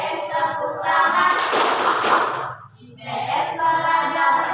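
A group claps together in time during a children's classroom song about social studies, the burst of claps falling in the middle of the sung line, with singing voices before and after.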